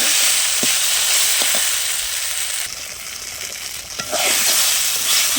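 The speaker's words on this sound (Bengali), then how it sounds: "ঢ্যাঁড়স ভাজা হচ্ছে আর গোশ হবে।" Okra frying in a pan for a home meal, a loud continuous close sizzle with occasional soft stirring knocks, dipping briefly in intensity midway before returning full.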